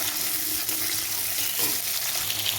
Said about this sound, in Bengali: বিনসটা ভেজে নেব।